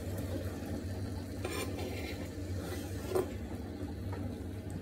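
Chopped leeks frying in melted butter in a pan give a soft, low sizzle, with light stirring and scraping and one brief clink partway through.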